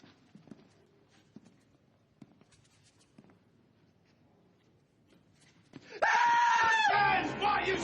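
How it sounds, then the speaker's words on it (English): Several men break into loud, sustained screaming together, erupting suddenly after a stretch of quiet footsteps and small shuffling noises, the yelling harsh and wavering until the end. "why are you screaming like a goddamn little girl?"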